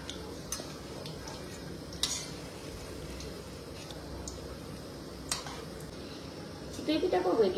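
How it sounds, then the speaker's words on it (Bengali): Many fritters fry together in plenty of white oil in a wok, giving a steady, low hiss with occasional light clicks and taps of a utensil throughout. "সাদা তেল দিয়ে একসঙ্গে অনেকগুলো বড়া ভেজে নিব আর কি"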